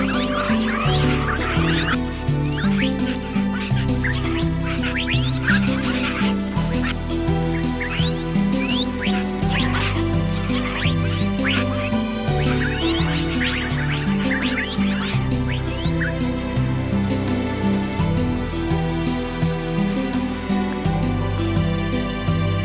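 Parrots in the Minecraft video game repeating mob calls, a steady stream of short squawks, bleats and whinny-like cries over a looping tonal music bed, with no speech.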